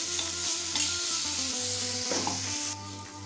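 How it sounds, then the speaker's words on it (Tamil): Masala paste with turmeric fries in a pan with a close, steady sizzle. Repeated soft scraping strokes from stirring run over it, and the hiss eases slightly near the end. "போட்டதுனால ஒரு நிமிஷம் ஃப்ரை பண்ணிக்கலாம்"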